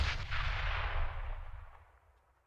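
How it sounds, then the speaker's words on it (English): A grenade explodes at a house in a first-person video game, a single deep boom that rolls out and fades over a couple of seconds at moderate volume. "They're throwing grenades at my house."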